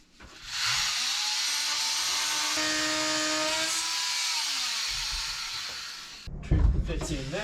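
A power tool cuts wooden boat trim with a loud continuous whine that holds for several seconds and then stops, followed by brief clattering handling.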